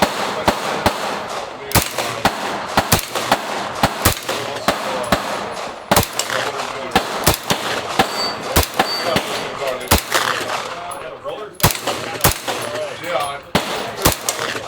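Sharp, loud rifle shots fitted with a faux suppressor crack out in irregular bursts at an outdoor shoot, some in quick succession, some spaced apart, with people talking between and under the reports.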